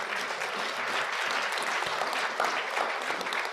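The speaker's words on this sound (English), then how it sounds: "So give yourselves a round of applause for coming out." A round of applause from an audience at a League of Women Voters event, dense steady clapping from many hands sustained throughout.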